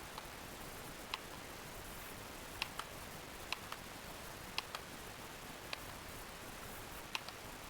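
Computer mouse clicking in a quiet room, about ten sharp, faint, isolated clicks spaced irregularly over a steady background hiss.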